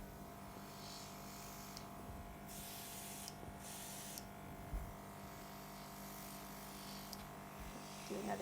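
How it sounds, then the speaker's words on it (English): Airbrush spraying silver food colouring onto a steampunk Victorian gothic cake decoration, sounding as several short, faint hissing bursts with pauses over a low background hum and no talk. "We'll go ahead and start with a little, start with the airbrush again."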